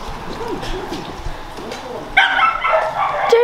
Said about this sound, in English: Oh, it's a doggy.